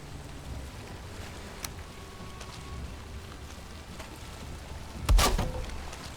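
Constant rain in the video game Valheim, a soft, steady patter with scattered drop ticks and a sharp louder burst near the end.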